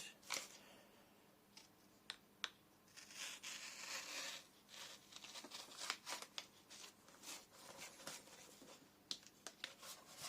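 Sharp Cricut craft scissors snipping through a sheet of vinyl, a series of quiet, close, crisp cuts and crinkles with irregular spacing and no talking.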